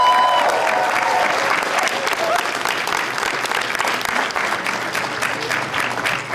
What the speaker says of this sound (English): So give yourselves a round of applause for that.